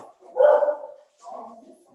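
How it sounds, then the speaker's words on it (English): Dogs bark in two short bursts, a louder one followed by a softer one, moderately close in an otherwise quiet setting. "I hear some dogs."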